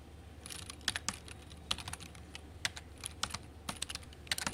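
Keys on a computer keyboard are typed while writing Python code, giving irregular bursts of crisp clicks with short pauses between, close and fairly quiet with no talking.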